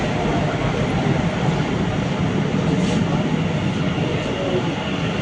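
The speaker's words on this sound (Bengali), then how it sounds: "আমাদের মেট্রো 2 মিনিট লেট করে অবশেষে স্টেশনে ঢুকলো" A Kolkata metro train rolls into the station with a loud, steady rumble and roar of wheels and carriages, continuous throughout.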